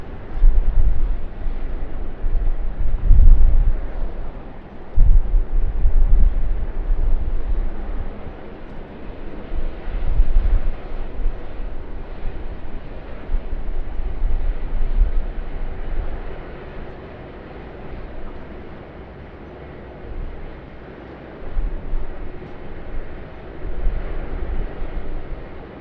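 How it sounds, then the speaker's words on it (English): A Cathay Boeing 747-8 freighter landing at Sydney Airport, heard as a low, rumbling jet roar that swells and fades over about twenty-five seconds, somewhat distant, with wind buffeting the microphone. "We are here with our 747-8 freighter."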